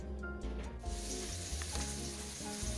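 Steady, close sizzling of mackerel frying in a hot pan, with faint crackles running throughout.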